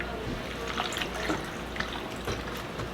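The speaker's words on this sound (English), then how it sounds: "I'm just gonna cover the water with the onions with water." Water running into a pot of sliced onions, a faint trickling and splashing held at a steady low level for a few seconds.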